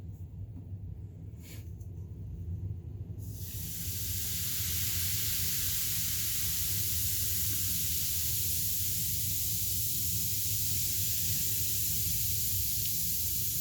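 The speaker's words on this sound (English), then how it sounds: "It's a faster fizzing bath bomb." A fast-fizzing Lush bath bomb dissolves in bath water, a loud, steady, close hiss that swells in after a few seconds of quiet and carries on evenly to the end.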